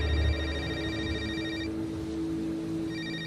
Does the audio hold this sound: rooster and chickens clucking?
no